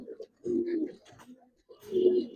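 Silver Giribaz pigeons give two soft, close coos, each a low throaty burst, separated by a brief pause.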